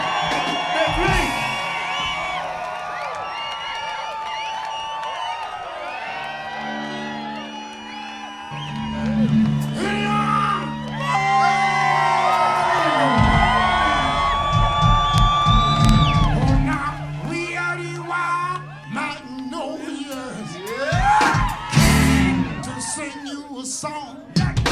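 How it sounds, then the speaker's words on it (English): A concert crowd at the 2001 Telluride Blues & Brews festival screams, whoops and cheers for dancers, loud and sustained over band music and a voice on the PA. "How about a scream for the dancers, y'all?"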